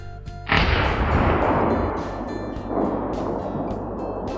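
A 300 Win Mag sniper rifle fires a single heavy shot outdoors, a loud sharp crack that booms and rolls away in a long echoing tail, with a second swell of reverberation a couple of seconds later.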